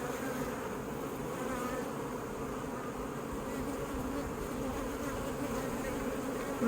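Honeybees at a backyard beehive buzz in a dense, steady drone, close and continuous, with no voices over the hum.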